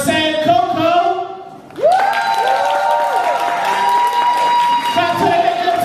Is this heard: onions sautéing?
no